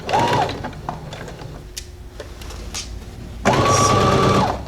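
A domestic sewing machine runs in two loud bursts of steady mechanical whirring, reverse stitching a men's shirt, with a quieter pause of handling and faint clicks between the bursts.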